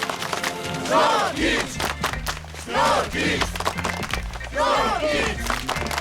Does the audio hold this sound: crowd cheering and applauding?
yes